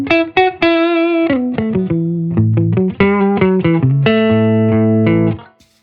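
Electric guitar through a 25-watt single-ended Class A amplifier playing a melodic line of sustained notes and chords, drenched in spring-style reverb with a lingering tail, close and loud, no talking.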